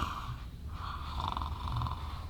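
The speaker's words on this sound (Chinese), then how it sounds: "鼾声如雷" Heavy snoring from a sleeping person, a few loud rasping breaths in a slow rhythm, close and alone.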